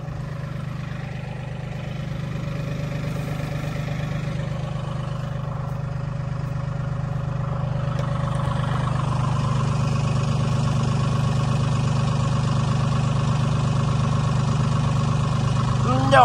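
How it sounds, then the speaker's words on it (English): A farm tractor idles steadily nearby with a low, even engine drone through the whole stretch, growing slightly louder toward the end, while people talk quietly over it amid livestock being fed hay. "I'm going to turn my tractor off"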